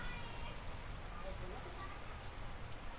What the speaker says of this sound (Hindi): बहुत दिन के बाद बारिश इधर आया है